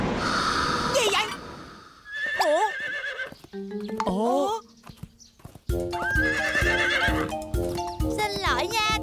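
A horse neighs loudly in an animated show, its whinny rising and falling between clip-clopping hooves, with voices talking around it.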